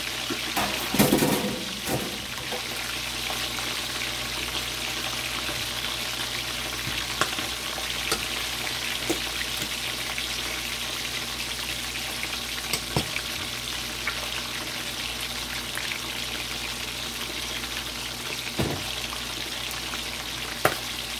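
Chinese fried chicken frying in oil over medium heat, a steady dense sizzle and crackle running throughout, close and continuous, with a few brief clinks and pops from the pan.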